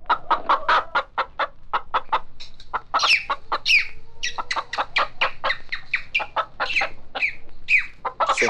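A hen clucking in quick repeated bursts, close and clear, with a few higher squawks breaking through the steady run of clucks.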